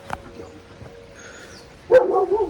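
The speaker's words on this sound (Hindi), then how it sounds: "इधर कुत्ते भी हैं।" Mountain dogs on a hillside trail in Uttarakhand bark a few times at a moderate distance, the barks rising sharply near the end over faint background noise.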